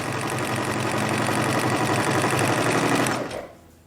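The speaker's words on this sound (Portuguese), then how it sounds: "aqui na máquina, deixa a largura mais ou menos de um pezinho e passa a costura reta" Sewing machine stitching a straight seam, a fast even mechanical chatter running loud and close for about three seconds before cutting off abruptly.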